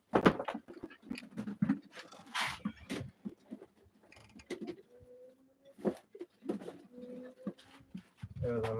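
Pigeons coo at a live pigeon auction, with soft repeated coos and scattered rustling and tapping close by, while people talk intermittently among the birds.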